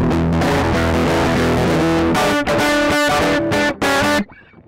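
A heavily distorted electric guitar through a Mozztronics HA-2 headphone amp chugs and rings loudly in short chords, then cuts off into a fading, buzzing tail.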